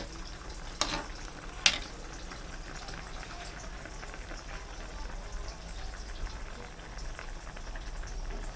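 Broth with kangkong boiling in a pot, a steady bubbling hiss that runs throughout, broken by two sharp clinks near the start.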